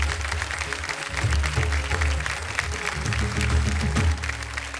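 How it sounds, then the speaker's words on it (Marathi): An audience at a Maharashtrian kirtan contest stage show applauds steadily, a dense wash of clapping with a low musical drone and hum underneath throughout. "जोरदार टाळ्या झाल्या पाहिजे त्यांच्यासाठी."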